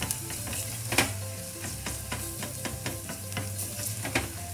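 Curry powder cooking with caramelized onions in a pan, a close, steady sizzle broken by frequent stirring clicks and scrapes of a utensil, with no speech.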